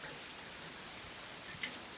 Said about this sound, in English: A rare sight, rain has stopped play